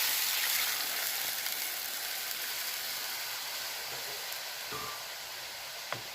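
Gram flour and yogurt batter for Punjabi kadhi being stirred in a hot pan, giving a steady close sizzle and soft hiss with faint scraping throughout, no voices.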